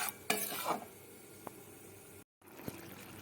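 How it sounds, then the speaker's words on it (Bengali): Spice masala with cashew paste being stirred and fried in a pan for a chicken dish, a quiet sizzle with a few scraping stirs and soft clanks, close and alone. "মশলাটা ভালো করে কষাতে হবে।"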